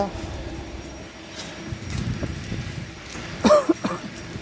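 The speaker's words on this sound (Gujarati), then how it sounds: "વરસાદ તો હજી બહાર ચાલુ છે." Rain falls outside in a steady, soft hiss that carries through the whole stretch, with a couple of brief louder knocks near the end.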